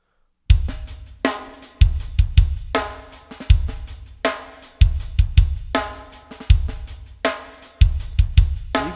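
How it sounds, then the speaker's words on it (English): Drum beat programmed in Reason with varied hit velocities, giving a looser, more human groove of kick, snare and hi-hats that repeats loudly after a brief silent start, no talking. "So you can just hear how much more realistic that sounds."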